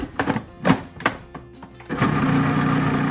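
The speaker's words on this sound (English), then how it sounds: "I'm gonna add another tablespoon and blend some more" A kitchen blender whirs through a thick peanut butter cup fudge mixture, starting with a few short stuttering pulses before settling into a steady, loud continuous grind.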